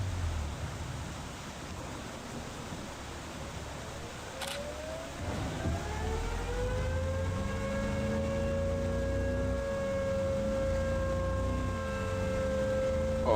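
In the video game Tornado: Research and Rescue, a town warning siren winds up from about four seconds and then holds a sustained, rising-and-falling wail. It plays over steady wind-like noise and an engine rumble, with no voices.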